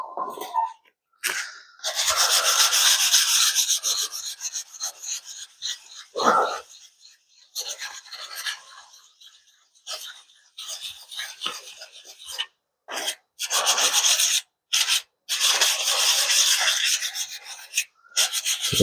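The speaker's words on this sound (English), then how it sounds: "I'm basically just touching, letting the sandpaper do the work." Sandpaper rubbed lightly by hand over a surface, giving close, loud raspy strokes in repeated bursts with brief pauses between passes.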